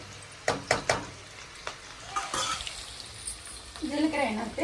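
Chopped onions dropped into hot oil with cumin for a mutton-style rice dish, giving a few sharp clatters and a rising sizzle that swells toward the end, close by.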